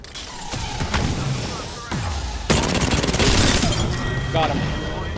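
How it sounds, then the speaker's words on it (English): Rapid automatic gunfire crackles in bursts during an Apex Legends battle, with a sharp louder barrage midway and mechanical clicks, while players talk over the shooting. "I'm getting shot at again."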